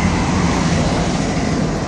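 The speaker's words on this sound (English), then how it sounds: "That's just train yet again." A passing train makes a steady, loud rumble that fills the whole stretch, with a broad rushing wash of rail noise and no speech over it.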